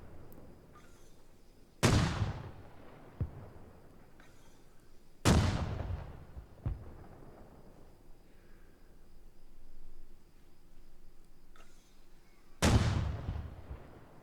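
Artillery fire and explosions in the video game Arma Reforger, with three heavy booming blasts spaced several seconds apart, each decaying into a long rumbling tail over a quiet background with faint insect-like chirping.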